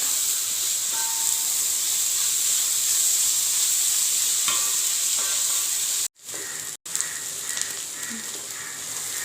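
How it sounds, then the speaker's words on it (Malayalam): Sliced onions sauté in a pan for Kerala-style mutton varattu, a steady soft sizzle and hiss running throughout with faint stirring scrapes and two brief dropouts near the end. "ഉള്ളി നല്ല വാടി വന്നിട്ടുണ്ട് ഇനി ഇത് നല്ല ബ്രൗൺ നിറമാകുന്നത് വരെ വഴറ്റണം"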